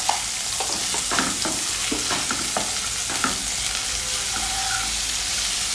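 Capsicum and pasta sauté in a pan, a loud continuous sizzle broken by stirring scrapes and clinks in the first half, with no talking.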